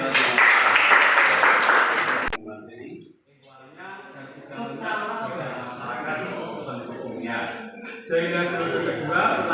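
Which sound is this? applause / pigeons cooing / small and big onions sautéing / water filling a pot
applause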